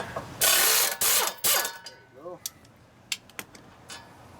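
A power wrench rated over 200 foot-pounds loosens caliper bolts on a 1999 Cadillac Seville, with loud bursts of whirring and ratcheting followed by softer clicks and metallic clinks nearby.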